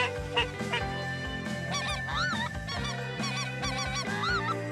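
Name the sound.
big group of ducks or geese calling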